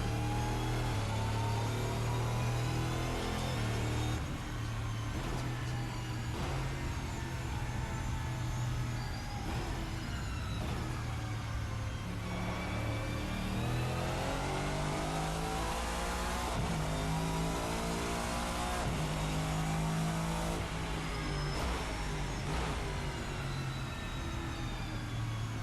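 GT-M Lux V8 race car in Assetto Corsa, its engine howling continuously through repeated rising revs and gear changes with a whining gear note layered in, loud and dense throughout with no speech.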